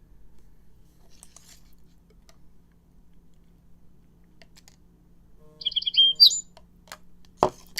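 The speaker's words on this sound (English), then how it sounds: "Birds are good for you guys" Bird chirps come in a few short, bright bursts over a near-silent background, with one quick cluster of tweets and scattered single calls.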